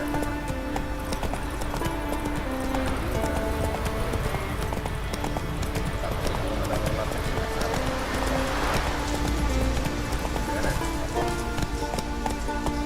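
Roach the horse gallops in The Witcher 3, a fast steady clip-clop of hooves over a dense ambient bed, with a voice urging the horse on.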